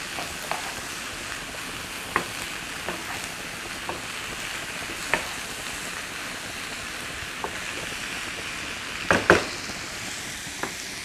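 Rice noodles and tofu sizzle steadily in a hot stir-fry pan, a constant hiss broken by scattered light clinks and scrapes of stirring, with a brief louder clatter near the end.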